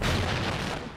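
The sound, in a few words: gunfire in the video game Call of Duty Ghosts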